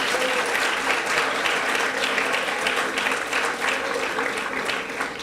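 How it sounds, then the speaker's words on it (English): An awards-ceremony audience claps for an honoree, producing dense, steady applause from many hands that holds at an even level throughout. "Clap, guys."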